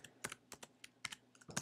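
Quick bursts of keystrokes on a computer keyboard as a basic search is entered, irregular clicks clustered in short runs, close and clear with no talking.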